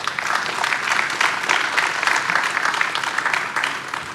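An audience at a business technology conference applauds a panelist with loud, dense clapping that holds steady for a few seconds.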